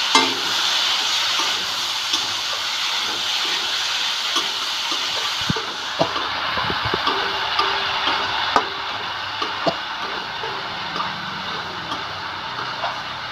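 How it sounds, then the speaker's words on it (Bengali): Spice paste stir-fried with yardlong beans and potato in a pan, a steady loud sizzle with a spatula scraping and ticking against the pan in irregular strokes, close up. "এবার সবজির সাথে মশলাকে ভালো করে কষিয়ে নিতে হবে কিছুক্ষণ।"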